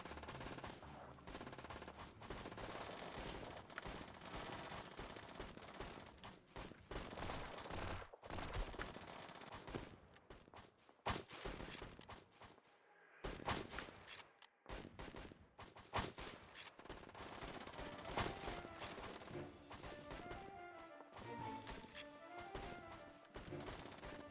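Rapid automatic gunfire from The Patriotic War video game rattles in dense, sustained bursts, loud and close, broken by a few short gaps midway, with no talking.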